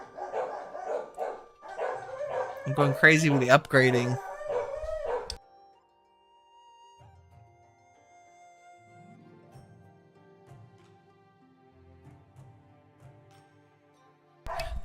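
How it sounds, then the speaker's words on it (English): Several dogs bark and howl loudly and close by in an excited, overlapping burst lasting a few seconds, then quieter sounds and a person talking follow. "The dogs are going crazy because physics is coming home."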